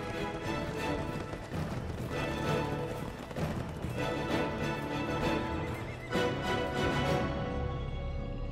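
Several horses whinny and neigh repeatedly over the clatter of hooves, a busy, continuous herd scene at moderate distance.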